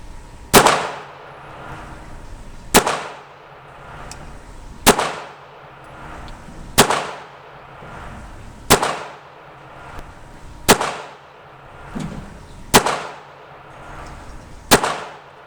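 A 9mm IMEZ Makarov pistol fires eight sharp shots, spaced evenly about two seconds apart, each loud crack followed by a short echoing decay outdoors.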